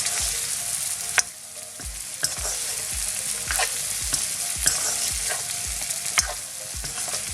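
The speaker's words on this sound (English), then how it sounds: "Still there's some lumps, so I'm just gonna break all and try to mix it all, everything together properly." Vegetable couscous being stirred and broken up in a hot pan: a steady sizzle under regular, repeated spoon scrapes, close and fairly loud, with no talking.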